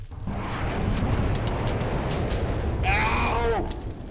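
A roaring explosion and fire in Minecraft, a dense continuous rumble filling the whole stretch with a crackling, shifting tone near the end, loud and close.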